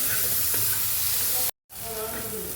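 Tomatoes cooking with salt in a pan give off a loud, continuous sizzle and steamy hiss, broken by a brief silent gap before the frying noise resumes.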